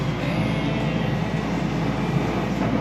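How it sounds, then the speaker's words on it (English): An Osaka metro train rumbles along at steady speed, a dense, continuous low roar of wheels and carriage noise heard from inside the car with no voices. "Now we're on a metro to get to our Airbnb."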